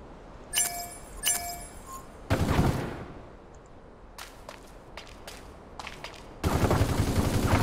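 Gunfire in the Super Mecha Champions video game, with sharp metallic shots, a few ringing clinks and bursts of rapid fire heard alone, with no talk.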